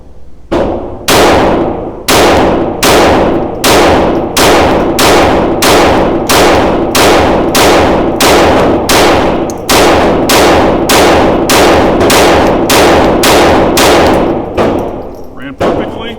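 Rapid string of about twenty loud, sharp Sig P322 pistol shots fired without the laser, evenly spaced about two thirds of a second apart, each crack ringing briefly before the next, close and dominant with no talking.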